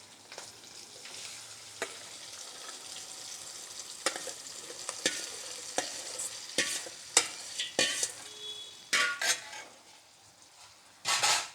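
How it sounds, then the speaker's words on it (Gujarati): Chopped okra fries in hot oil with green chilli and asafoetida, a soft steady sizzle under repeated close scraping and clattering of a spoon stirring the pan, growing louder in bursts toward the end. "અને આપણે સમારેલા ભીંડા હોય તે નાખી દેવા."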